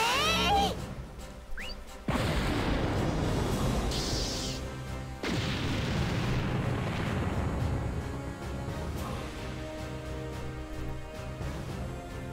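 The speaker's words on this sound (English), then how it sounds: "And the nuclear explosion takes the wall out anyway." A nuclear explosion in the video game Ar Tonelico 2 blows out a wall: a sharp crack, then a massive booming blast with crashing debris that rumbles on and slowly fades into a long roaring tail.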